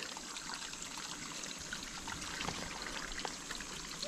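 Hot spring water trickling and dribbling steadily, a soft continuous flow with faint splashes, heard alone at a low level.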